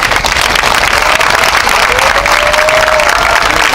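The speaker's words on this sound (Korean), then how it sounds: "힘찬 박수 부탁드립니다." Loud, continuous applause from an outdoor rally crowd gathered in support of a hunger strike, dense clapping and crowd noise filling the whole few seconds with a faint whistle-like tone rising midway.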